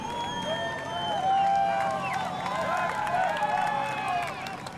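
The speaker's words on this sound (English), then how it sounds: "the crowd's fantastic here, 5 and 6 deep along the barriers lining the Avenida Atlantica on Copacabana" A dense crowd packed five and six deep along barriers on Copacabana's Avenida Atlantica cheers during the Rio 2016 women's triathlon, a steady roar with whistles and horns rising over it and a voice talking faintly underneath.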